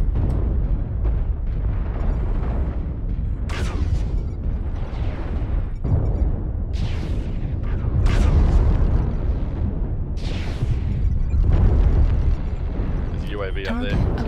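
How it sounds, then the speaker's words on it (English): Artillery explosions boom in a video game, a series of heavy, rumbling blasts and bursts spaced irregularly under nearly continuous talk. "Artillery."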